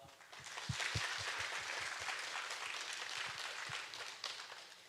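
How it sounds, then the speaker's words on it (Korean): A church congregation applauding to thank a pastor after his sermon at a Wednesday prayer service, a dense, steady patter of clapping sustained throughout at moderate distance. "이상원 목사님께 감사의 박수를 드리는 시간을 가지겠습니다"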